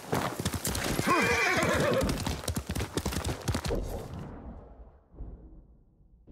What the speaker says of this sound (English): This is my horse.